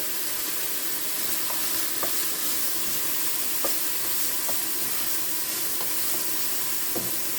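Garlic sautéing in a cocotte alongside onions for a ratatouille with pork, a dense continuous sizzle and hiss with occasional faint clicks and scrapes, close and steady with no voices.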